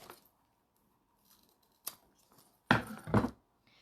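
Scissors trimming the fabric of a small zippered mini bag: a faint snip, then a sharper cut, followed by two louder close crunching snips near the end amid quiet pauses.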